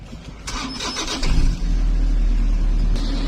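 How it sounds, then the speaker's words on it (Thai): A car engine cranks briefly, then catches and settles into a steady, close idle rumble. "จะสตาร์ทเครื่องฟังเสียงเครื่องนะคะ"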